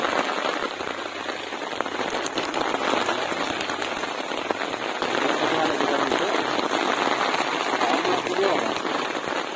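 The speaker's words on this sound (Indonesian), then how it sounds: "Dan hujan pun turun." Rain falls steadily on a garden during an outdoor communal meal, a dense even hiss of drops on surfaces continuing for the whole stretch, with faint voices buried in the wash.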